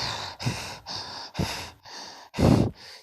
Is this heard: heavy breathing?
yes